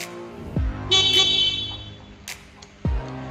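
Two short honks from a Yamaha MX King motorcycle horn, sounded to test the battery, separated by a pause, with a brief engine or click noise between them, close by.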